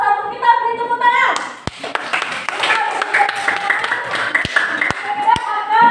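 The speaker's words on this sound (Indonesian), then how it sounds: "Kita beri tepuk tangan." A classroom audience claps briefly for students, a short burst of scattered hand claps heard near and fairly loud, with a teacher's voice talking before and over it.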